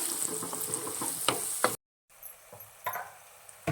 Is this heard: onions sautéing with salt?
yes